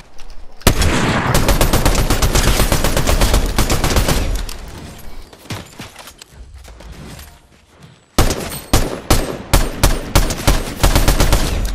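Rapid sniper rifle gunfire from a video game shooter, loud and dense, with bursts of shots, a brief lull, then a string of sharp, evenly spaced cracks.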